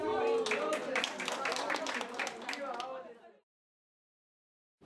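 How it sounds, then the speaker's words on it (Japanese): Players and onlookers at a community boccia game cheer, chatter and clap together in a lively burst for about three seconds, then everything cuts off into silence. "誰かがボールを投げるたびに歓声が上がっていました"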